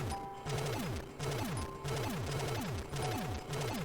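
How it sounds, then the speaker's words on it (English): Stage-smashing finisher in Super Mario 3D World, heard as a steady loud clatter of repeated crashing impacts with rising and falling game tones, pulsing in regular bursts about every half second. "finisher smashing through the entire stage."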